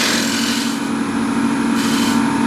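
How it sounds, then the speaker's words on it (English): A wood gouge is used as a shear scraper on a turned piece, its wing refining the details to give a steady, loud, continuous rasping hiss that stays close and uninterrupted. "So I'm using left wing of the gouge as a shear scraper just to get these details."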